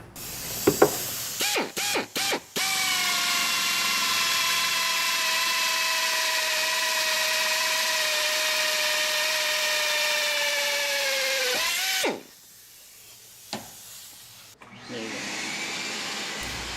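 Power drill boring holes into a vehicle's frame rails for TeraFlex rock slider mounts, a few short trigger blips then a long steady high whine that winds down, followed by quieter clanks and a brief final rev.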